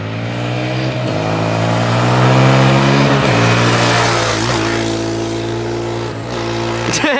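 Honda CRF150F dirt bike engine running steadily after a new carburetor install, a loud close single-cylinder drone that swells in revs mid-clip and settles back, with a sharp blip near the end.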